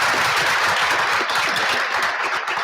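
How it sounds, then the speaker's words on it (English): A ceremony audience gives the Army Quintet a dense burst of clapping at a university presidential investiture, a loud, continuous round of applause. "Let's give them a round of applause."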